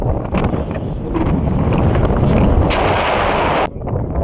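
Wind roars loudly and continuously on a cable car ride in Malaysia, buffeting the microphone hard before dropping off abruptly near the end.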